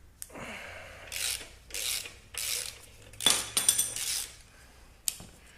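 A wrench ratchets and turns a bolt on a 1991 Honda CBR 600 motorcycle frame, giving several separate metallic scraping strokes with light clinks, close and moderately quiet.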